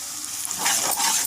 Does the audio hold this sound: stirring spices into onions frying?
yes